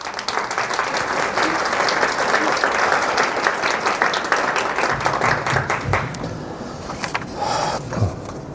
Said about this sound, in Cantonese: 俾啲掌聲阿 Jack 嚇